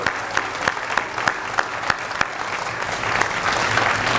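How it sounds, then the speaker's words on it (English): Audience applause for students at a science and math building dedication, a steady crowd clapping with sharper individual claps standing out, loud and close, swelling slightly toward the end with no talk over it. "Give those folks a round of applause for all the great work."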